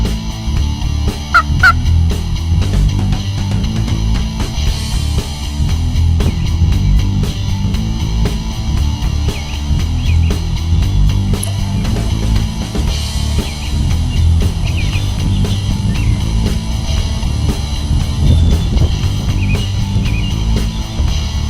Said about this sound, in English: that gobbler I've been hunting hasn't wanted anything to do with my call or my homemade decoys